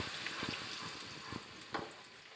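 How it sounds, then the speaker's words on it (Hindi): Medium-sized sliced onion fries in oil in a wok, a soft, faint sizzle with a few light stirring knocks. "ये एक मीडियम साइज़ की मैंने प्याज ली है और इसको मैंने ऑयल में डाल दिया है"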